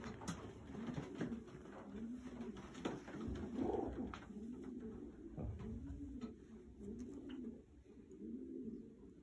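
Pigeons cooing in a steady, repeated rolling rhythm, soft and nearby, over a faint background hum with no talking.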